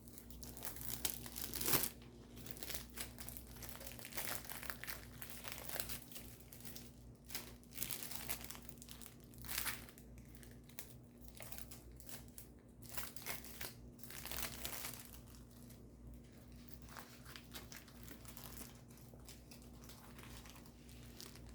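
Crinkly plastic packaging of a small unicorn diamond painting kit being unwrapped by hand, continuous close rustling and tearing with sharper crackles, no voices.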